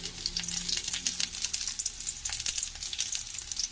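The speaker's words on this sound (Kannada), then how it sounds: "ಈರುಳ್ಳಿ ಕಂದು ಬಣ್ಣ ಬರೋ ತನಕ ಮಿಕ್ಸ್ ಮಾಡ್ಕೊಳ್ಳಿ, ಫ್ರೈ ಮಾಡ್ಕೊಳ್ಳಿ." Green chillies, garlic and onion frying in hot oil for a drumstick-leaf upsaaru, a close, continuous crackling sizzle with busy spitting and occasional stirring scrapes.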